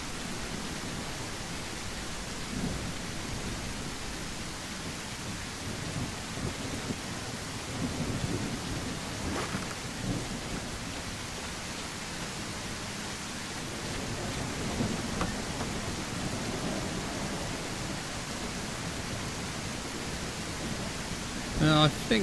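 Continuous heavy rain hisses across the whole scene while deep rolls of thunder swell and fade in a survival video game, the downpour steady and loud with occasional sharper crackles.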